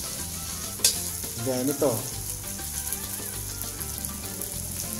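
Snakehead mudfish fries in oil in a pan with a steady, close sizzle, a sharp crackle and a couple of brief bubbling spurts rising over it, while a voice speaks briefly.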